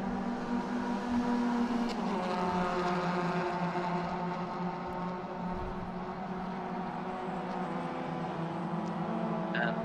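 Suzuki Swift race cars of the 1600 naturally aspirated class lapping the Hungaroring during a Swift Cup Europe race, a steady sustained engine drone from a group of cars at moderate distance, with no pause.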